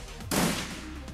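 A single loud gunshot blast in the game Shadowrun, erupting abruptly after a quiet moment and decaying over the next second.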